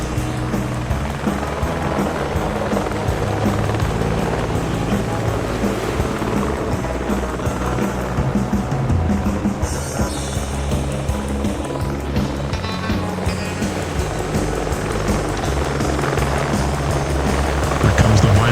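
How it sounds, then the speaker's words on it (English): Helicopters make a head-on pass toward the crowd at an airshow, a loud, constant rotor and engine roar that fills the whole stretch and swells slightly at the end. "Helicopters are coming for a head-on pass as they approach near the crowd."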